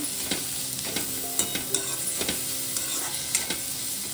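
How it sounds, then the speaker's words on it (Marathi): Green chillies with cumin sauté in a pan, a constant sizzle under repeated spoon scrapes and taps against the metal at an uneven, brisk pace. "हिरवी मिरची चांगली परतून झाली आपल्या इथे"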